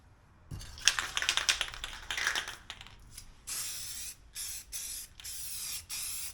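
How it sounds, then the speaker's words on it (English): Rust-Oleum 2X matte clear coat sprayed from an aerosol can onto a GPS unit bezel, several short hissing bursts with gaps, after some light tapping and clicking at the start. "I allowed the clear to flash off, then applied the second and last clear coat to the bezel."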